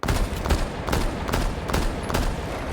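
Rainbow Six Siege DMR fire hitting a barricade, heard as a rapid string of loud, evenly spaced single shots with each report blending into the next, close up and with no talk.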